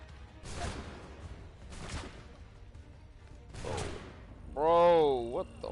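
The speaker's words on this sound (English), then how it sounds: "Who the hell is shooting me?" Gunfire in the video game Assassin's Creed, set around Connor Kenway, comes as three separate loud musket-like blasts at steady intervals, followed by a shouting voice near the end.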